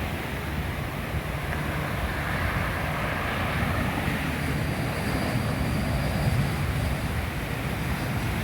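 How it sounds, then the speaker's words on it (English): An American Airlines jet lands at McCarran Airport in Las Vegas against 40 mph wind gusts, heard as a continuous broad engine roar mixed with gusting wind noise that stays fairly even throughout. "American Airlines jet."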